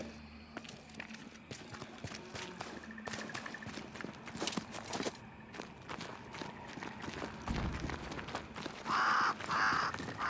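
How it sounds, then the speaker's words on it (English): A crow caws in a game scene from Banishers: Ghosts of New Eden, a few loud calls late in the clip over steady footsteps and ambient game noise. "Did I see you talking to a crow just now?"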